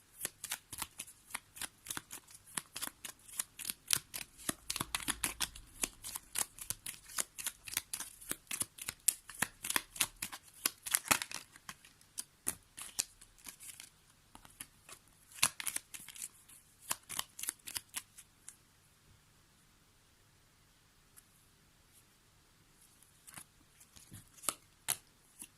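Lenormand oracle cards shuffled by hand, a long run of quick, crisp riffling flicks close up, then slowing to a few scattered taps near the end.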